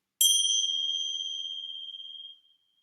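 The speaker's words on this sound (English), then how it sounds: "And the bell means it's yoga time." A single bell strike opens a restorative yoga session, a bright metallic ding that rings out clearly in silence and decays smoothly over about two seconds.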